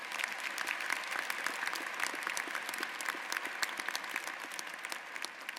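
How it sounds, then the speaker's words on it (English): A commencement crowd at the University of Michigan-Dearborn's 2018 spring ceremony applauds the Chancellor, with many hands clapping in a dense, continuous roar that holds steady at a moderate, slightly distant level. "Let's give the Chancellor a big round of applause"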